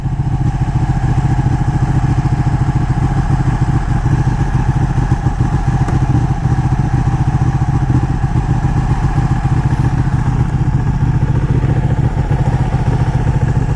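A roughly 200-horsepower superbike engine runs loud and close, with a steady, dense mechanical rumble and rapid clatter that holds without pause throughout.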